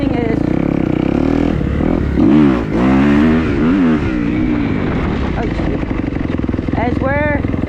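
A motorcycle engine revs and shifts through gears while the rider holds a wheelie, droning loudly throughout with rising and falling pitch sweeps under steady talking.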